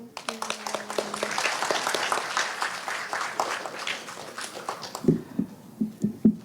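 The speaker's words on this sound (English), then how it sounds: "Let us give a round of applause to her." Audience applause after a leadership talk on TVET ecosystems. The clapping is moderately loud and busy for about five seconds, then thins out as voices and scattered claps take over.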